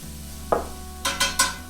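Lean bacon cooks in a homestead kitchen pan: one dull knock, then three quick, evenly spaced scraping strokes over a low background sizzle.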